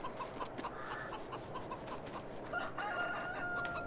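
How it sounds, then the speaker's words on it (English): A rooster crows on a farm in the video game Farming Simulator 22, clucking chickens around it under steady background ambience. "Alright, I hear the rooster."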